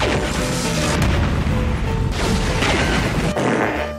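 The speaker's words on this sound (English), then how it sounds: "Explosions." Loud, rumbling explosions and booming crashes from a movie trailer, layered into a dense, cinematic roar that stays intense throughout with a few sharp hits.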